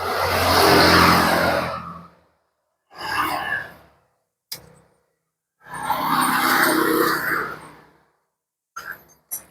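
A Yamaha Mio J scooter engine with recently replaced valve seals and an oil-burning fault starts and revs in several loud bursts of differing length, separated by short silences.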